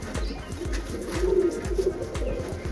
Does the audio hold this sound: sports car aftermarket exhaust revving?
no